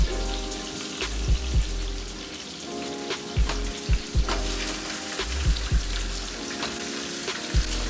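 Vegetables, including carrots, ginger, celery and onion, cook in a hot pot with a crackling sizzle broken by repeated sharp pops and taps, close and fairly loud, with no talking.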